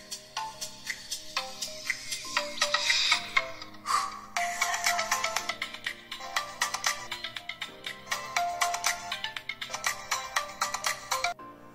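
A song playing through the small built-in speaker of an HTC Hero phone, thin and tinny, with continuous melodic notes and a rhythmic pulse, no voices over it.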